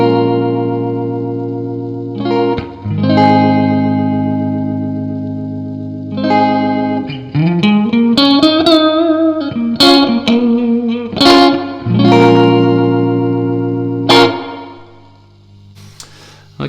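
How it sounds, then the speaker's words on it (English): Electric guitar played through a Keeley Caverns V2 spring reverb pedal, with strummed chords and picked notes that ring out in a splashy, lingering reverb tail. The guitar is loud and close, with no talking. "Okay, so not a bad spring reverb."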